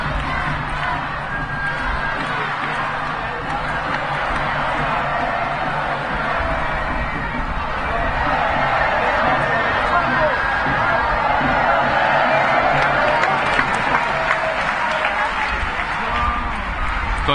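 A crowd shouting and cheering at a festival giants procession in Catalonia, dense sustained cheers, whoops and applause filling the whole stretch, loud and close, with voices calling out over the roar.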